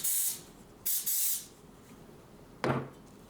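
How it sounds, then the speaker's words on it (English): Two short hissing bursts of 2P10 glue activator sprayed onto a model rocket fin of an Estes Pro Series So Long kit, followed by a brief tap or handling sound, all close and alone. "I'm going to go and apply some of this activator."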